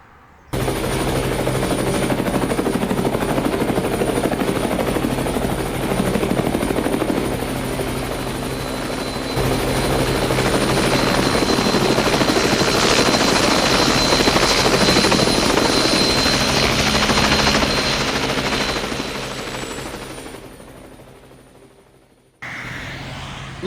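A camera drone hums steadily for over twenty seconds while flying above an old railway goods yard near Torchamp, loud and continuous with a constant whirring tone, tapering off near the end, no voices present.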